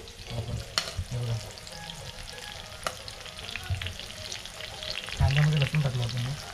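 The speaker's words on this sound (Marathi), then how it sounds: "आता लसूणची फोडणी देऊया आपण" Onions and garlic fry in a pan of tempering oil, making a steady, faint sizzle with a few scraping stirs. A quiet voice talks briefly in the background.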